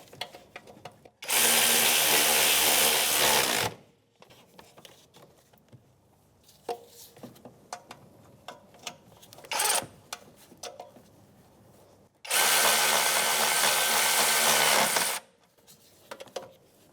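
A power tool with a 13 mm socket snugs exhaust manifold bolts on a 1992-1996 Ford F-150, running in two loud sustained whirring bursts of a few seconds each, separated by quieter clinks and handling noises.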